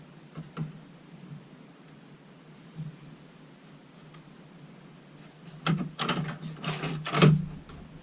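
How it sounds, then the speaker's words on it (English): Ratchet straps are cranked tight around a buried micro hydro powerhouse pipe, giving a few faint clicks early on and then a louder run of sharp, rapid ratcheting clicks near the end, with no talking. "Technique for tightening these up I found is just to hook the ratchet straps on somewhere onto one of those ridges"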